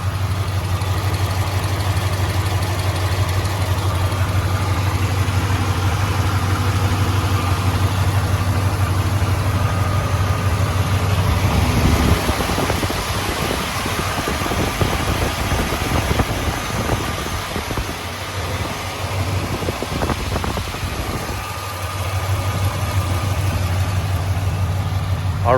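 A 1996 Chevy Impala SS with a 5.7 liter LT1 V8 idles steadily up close, a constant low rumble that shifts partway through as other noises and brief movement sounds break in.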